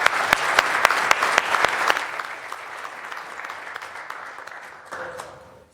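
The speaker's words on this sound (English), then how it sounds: "Can we have one more quick round of applause for our Boston athletes?" Applause for Boston athletes at a city council meeting, starting with sharp, loud claps that thin into a softer, steady patter before fading out near the end.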